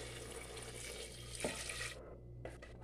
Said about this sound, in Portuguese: É que eu vou colocar água quente